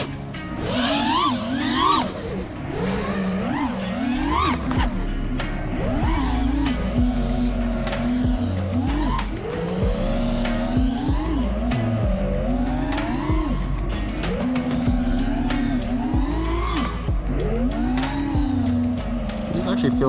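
An FPV freestyle drone on HQ Ethix racing props whines and surges as it flies, the motor pitch sweeping up and down continuously with throttle changes, loud and close throughout.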